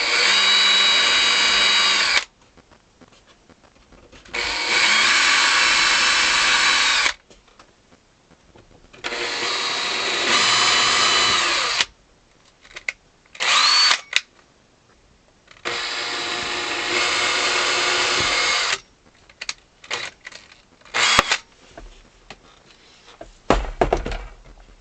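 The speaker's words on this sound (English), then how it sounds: "I'm just going to have to drill a little bit more of a pilot hole where these are going in." Power drill boring pilot holes in the bass side of a Silvio Soprani 48 bass accordion during restoration, in several loud, steady bursts of a few seconds each, separated by pauses and short clicks and knocks.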